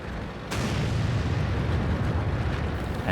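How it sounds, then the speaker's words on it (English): An artillery shell explodes in World of Tanks, striking suddenly after a quieter moment, then rolling into a loud, sustained low rumble with no voices. "And that was another artillery shell."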